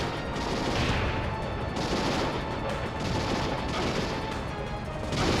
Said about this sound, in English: And somebody's shooting us from behind.